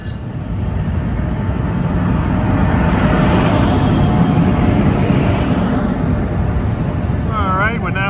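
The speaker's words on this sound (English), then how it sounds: "I just got off train 3721." New Jersey commuter train 3721 rolling on rails, producing a loud, steady low rumble and rattle heard from on board for several seconds, with a faint tonal squeal near the end and no clear talk.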